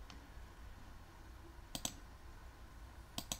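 A few sharp mouse clicks at a computer while working in a web browser's settings, coming in quick pairs over a quiet room hum, with no talking.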